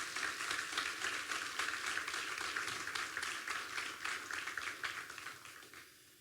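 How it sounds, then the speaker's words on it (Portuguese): Congregation in a church applauding together, dense steady clapping that fills the room for about six seconds before tapering off at the end. "Eu queria que você desse uma salva de palmas para Jesus"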